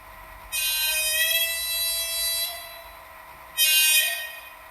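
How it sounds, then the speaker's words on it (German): Minitrix model locomotive horn sounding in two blasts, a long bright harmonic tone of about two seconds followed by a shorter second toot, loud and close with no talk. "Aber hören wir uns erstmal die Hupen an."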